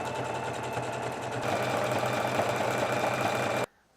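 A sewing machine runs steadily, stitching a hoodie seam with a quarter-inch allowance. The motor hum and rapid needle clatter are close and continuous, picking up slightly before cutting off abruptly.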